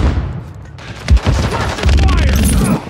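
Explosion and gunfire in Call of Duty Modern Warfare 3 multiplayer, a loud thump followed by dense rapid shots and crashing blasts, close and continuous.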